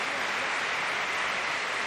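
Basketball arena crowd at Gran Canaria applauding during a World Cup match, a dense, steady wash of clapping at full volume that fills the whole moment without a break.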